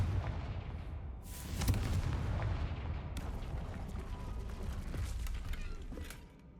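Confringo blasting curse in Hogwarts Legacy, sounding as a loud fiery explosive burst followed by booming rumbles and crackling debris, with a second sharp blast partway through over a low rumbling game background.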